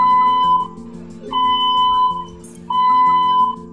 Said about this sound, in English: The fire and gas alarm sounds like this.